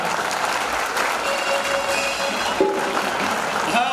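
An audience claps steadily at an Epuri Jnana Chaitanya Yatra stage event, a dense, even wash of applause with no voices standing out, holding at a constant level for the whole stretch.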